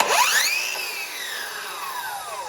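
A brushless Ryobi cordless circular saw spins up with a rising whine, then an electric brake pulls the motor down through a long falling pitch sweep over about two seconds, fairly loud and close with no talk.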